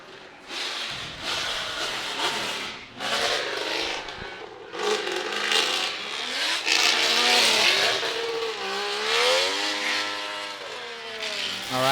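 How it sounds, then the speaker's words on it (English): Loud drift cars at Suzuka during a drift competition qualifying run, engines revving and wailing up and down with squealing, skidding tyres, rising and falling in bursts as cars pass close by. "Some very loud cars coming onto the track."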